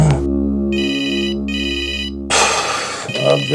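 Telephone ringing in two electronic bursts with a steady tone underneath, then a rush of louder noise and a voice speaking.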